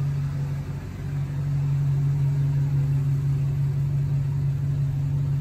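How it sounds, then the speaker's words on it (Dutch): A V8 car engine idles steadily at close range, a deep constant rumble with a strong low hum and no revving, loud and unbroken throughout with no talk. "Die heerlijke V8."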